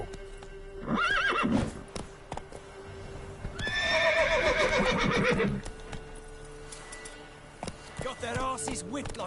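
Horse hooves and snorting from The Witcher, a galloping mount with loud whinnying bursts, under a man's spoken lines.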